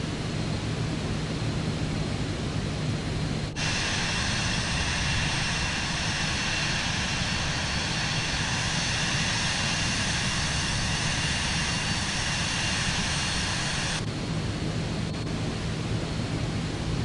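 Steady, broad engine roar fills an aircraft cabin during a Halloween night flight, a constant rushing drone that brightens and hisses louder through the middle stretch before settling back, with no speech.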